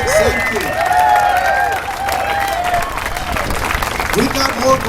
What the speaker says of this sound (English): keep the applause going once again for Corey West, as well as Josh Hayes, as well as Jake Semke